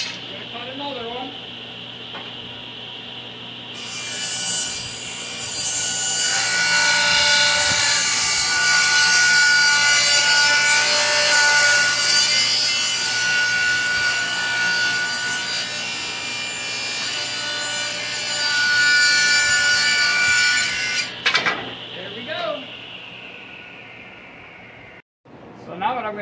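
A power saw ripping a one-inch strip from pallet wood, spinning up and cutting steadily for about fifteen seconds, loud and close, then winding down, with brief voices in the pauses.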